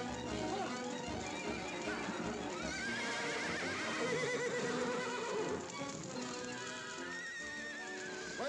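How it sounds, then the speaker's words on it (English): Horses neigh and whinny repeatedly over a busy, dense mix of hoofbeats and commotion, with voices shouting now and then in the background, in a 1940 western film. "Speedy, take care of my horse while I get these out of here."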